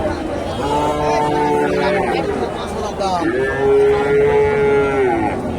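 Friesian heifers and other cattle at a busy livestock market in Bogura moo long and loud, close by, with two or three drawn-out calls over a constant murmur of crowd chatter.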